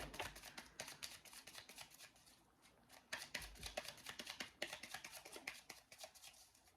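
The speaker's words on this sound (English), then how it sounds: "I'm going to go ahead and shuffle these." A deck of tarot cards is shuffled by hand in a quiet room, with repeated soft riffling and tapping bursts close by.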